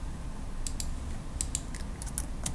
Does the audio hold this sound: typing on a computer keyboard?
yes